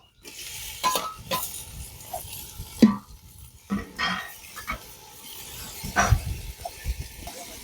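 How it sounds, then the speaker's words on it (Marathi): Chopped tomatoes sautéed with fried onion in a pan for spicy misal, giving a soft continuous sizzle broken by occasional spoon scrapes and clinks against the pan, with no talking. "त्यात आता 5 छोटे आकाराचे टोमॅटो चिरून घेतलेत, ते आपण याच्यात परतणार आहोत"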